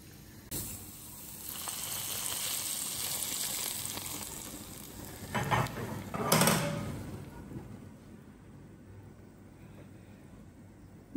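Onions frying in ghee give a steady soft sizzle, with a couple of louder scraping stirs near the middle before it settles back to a quiet hiss.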